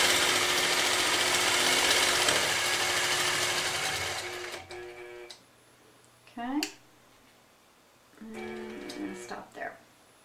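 A sewing machine stitches a quilt guided by a ProEcho ruler, running loud and continuous for about four seconds. It stops, then two short bursts of stitching follow, with someone speaking in the gaps.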